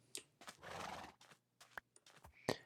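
A horse in Minecraft neighing in a short, quiet whinny burst among clip-clop steps and scattered clicks, faint and close.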